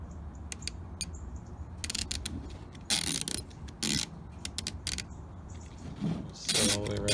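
An outdoor pin timer's dial, bought for a Tower Garden, is turned by hand to set the time, giving clusters of crisp plastic ratchet clicks in short bursts with pauses between them, up close and quiet.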